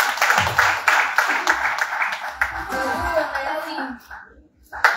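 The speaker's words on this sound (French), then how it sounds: "On l'acclame, s'il vous plaît." Audience at a church event applauding steadily, a dense wash of clapping that carries on for several seconds before fading near the end.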